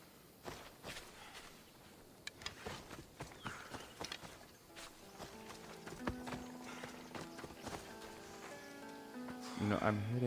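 Horse hooves clip-clop at a steady walking rhythm in the video game Assassin's Creed Odyssey, close and moderately loud, with game tones and a voice talking over the footfalls.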